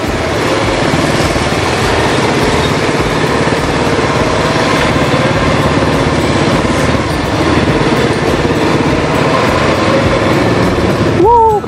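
An ATV engine runs steadily while riding, a loud close buzzing drone that rises and falls slightly with the throttle for the whole stretch.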